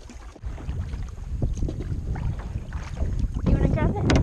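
A small boat is paddled along the water on a coastal trip, with steady splashing and sloshing and gusts of wind buffeting the microphone throughout.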